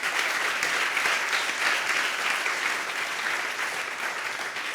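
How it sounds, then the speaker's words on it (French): An audience applauds without a break to close a conference debate on local authorities and climate adaptation; the clapping is moderately loud and even throughout, with no speech on top. "On peut vous applaudir et puis on va prendre des questions"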